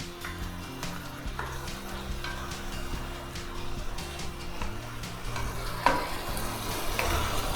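Green vegetables for hariyali pav bhaji cook on full flame in a pan while being stirred and mixed, a continuous close sizzle broken by scraping strokes and one sharp clank, with no speech.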